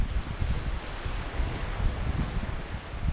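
Wind blows steadily across a seashore, a continuous rough rumble buffeting the microphone, with a faint wash of surf beneath it and no voices.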